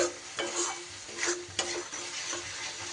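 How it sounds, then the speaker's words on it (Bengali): Spice paste with salt, cashew and poppy seed frying in a pan, with a close sizzle and several scraping stirs of a spoon against the metal, no talking. "নুন দিয়ে খুব ভালো করে মশলা আবারও কষিয়ে নিতে হবে"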